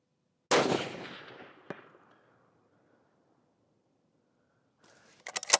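A rifle fired from a CKYE-POD tripod rear support at an outdoor range toward a 305-yard target gives one sharp, loud crack that echoes and fades over about a second, followed by a faint distant report and quiet rustling.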